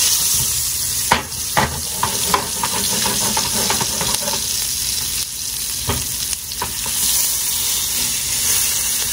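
A T-bone steak sears loudly in a hot pan, giving a steady dense sizzle and crackle with sharper pops and spatters scattered throughout, and no talking over it.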